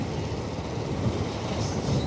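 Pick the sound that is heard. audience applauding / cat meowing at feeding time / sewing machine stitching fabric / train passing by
train passing by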